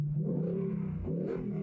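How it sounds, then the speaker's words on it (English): A 2019 Ford Mustang GT convertible with the exhaust in quiet mode gives a short, muffled rev: a low, steady rumble that swells briefly near the end, heard close with no talking. "let's go to quiet mode and let's rev up the engine."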